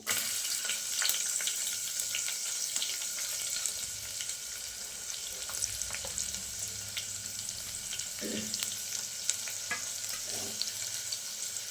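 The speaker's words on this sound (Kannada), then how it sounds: "ಈಗ ಈರುಳ್ಳಿನ ಸಣ್ಣದಾಗಿ ಕಟ್ ಮಾಡ್ಕೊಂಡಿದ್ನಲ್ಲ ಅದನ್ನು ಹಾಕೋತಿದ್ದೀನಿ." Finely chopped onions sizzle in hot oil in a pan for a green gram gravy, a steady close frying hiss with occasional stirring clinks and soft scrapes.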